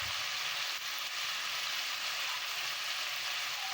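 Chicken fries in a pot with salt added, giving a steady, close hiss of sizzling oil that runs evenly throughout with no breaks.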